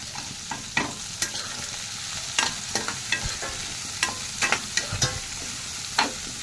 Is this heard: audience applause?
no